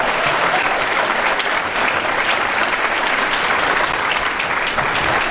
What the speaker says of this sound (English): Can we have one more round of applause for our concert choir?